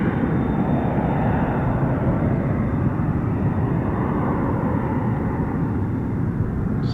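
An aircraft from RAF College Cranwell passes overhead, giving a steady, fairly loud broadband engine rumble throughout with no voices.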